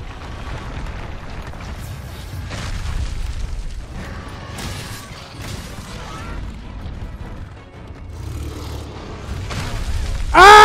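A bomb detonates in the video game Monster Hunter World, heard as booming, crashing bursts over busy mechanical game noise, with a sharp bright burst near the end.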